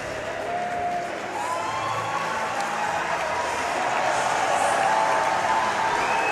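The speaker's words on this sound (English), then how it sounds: "Gets an ovation from the crowd in both benches." A crowd gives a sustained ovation at a college game as an injured player recovers, steady applause and cheering from a large arena audience that swells slightly toward the end, with faint voices beneath.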